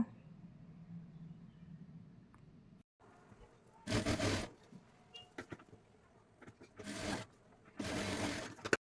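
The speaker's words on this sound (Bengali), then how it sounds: "এখন উল্টো দিকে এইভাবে লাইনিংটা রেখে সোজা কাপড়ের ওপরে আরেকটি চাপ সেলাই দিয়ে নেব।" A sewing machine runs a top stitch through blouse fabric with its lining laid on the reverse side, in three short loud bursts of whirring separated by quieter handling noise.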